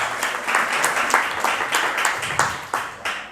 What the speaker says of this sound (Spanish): Le damos un aplauso a Nico